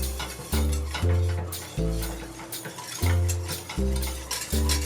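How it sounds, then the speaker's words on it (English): A whisk working a flour roux with milk in a pan, making loud, rhythmic scraping strokes about once a second that repeat evenly throughout, close to the ear. "whisking those together until they're nice and smooth, and then adding in about twice as much milk"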